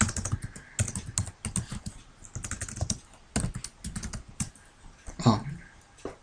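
Rapid keystrokes on a computer keyboard as the diskpart command is typed into a Windows command prompt, arriving in quick uneven bursts with brief pauses, close and clear with no voices.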